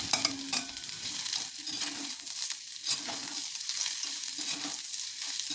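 Garlic and onion sauté in a pan while being cooked for a snake gourd stir-fry, giving a steady loud sizzle with repeated scraping stir strokes throughout and no talking.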